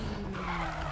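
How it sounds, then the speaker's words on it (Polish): A car drifts in the Need for Speed 2015 video game. Its tires skid with a continuous loud squeal over a steady engine drone, with no speech. "Po prostu im więcej mocy samochód ma, tym lepiej wchodzi w drift."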